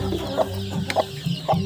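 Free-range village hen that has just hatched chicks, clucking in short repeated calls about every half second, close and clear over faint background noise.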